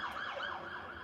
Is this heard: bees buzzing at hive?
no